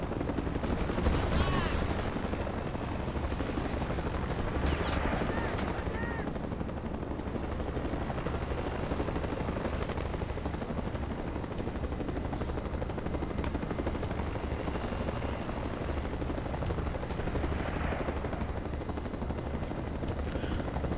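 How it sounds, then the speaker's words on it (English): Helicopter rotors drone steadily under repeated bursts of machine-gun fire in Mercenaries 2: World in Flames, the old Korean War era helicopters thrumming continuously while shots crackle throughout. "Those helicopters they're driving, I think they're old American ones from like the Korean War era."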